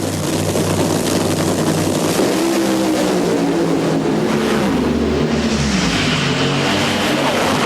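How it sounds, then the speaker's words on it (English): Funny Car drag racers at full throttle in a final, with Dean Skuza in one car, a loud continuous roar that fills the whole stretch and shifts in pitch as the cars run down the track. "Here we go. Funny Car Final."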